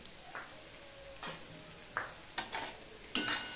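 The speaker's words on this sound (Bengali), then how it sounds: "হলুদটা দিয়ে সম্পূর্ণটা আমি মিশিয়ে দিচ্ছি" Bitter gourd and egg with turmeric being stirred in a pan, soft sizzling beneath scattered scrapes and metallic clinks of a spatula that grow sharper toward the end, no voices.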